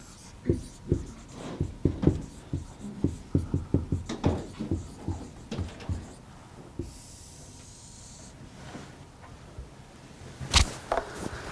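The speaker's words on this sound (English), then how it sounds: "Let's write that so we can remember it." Writing during an Arabic grammar lesson, a series of close, quick scratchy strokes and taps in irregular bursts, fading to quiet handling before one last sharp knock near the end.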